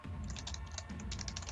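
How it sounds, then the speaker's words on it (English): Someone types an address on a computer keyboard, a quick run of close, quiet key clicks with a brief pause midway, over a low background hum. "I'm actually typing the address"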